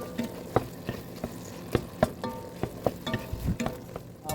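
Ground pork sausage, including a spicy hot variety, sizzles steadily as it browns in a pan for Zuppa Toscana soup, with occasional clicks and scrapes of stirring over a continuous close fry.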